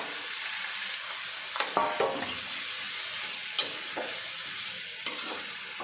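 Potato and eggplant pieces hit hot fish oil in a pan and are stirred, a low steady sizzle broken by a few sharp scrapes and clinks of the spoon.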